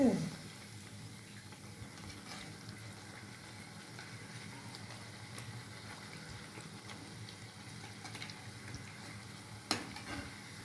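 Savoury khaja pastries fry in hot oil with a steady, even hiss of bubbling oil that runs throughout. A few faint stirs are heard, and there is no talking.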